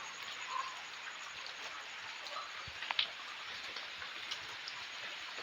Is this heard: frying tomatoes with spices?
no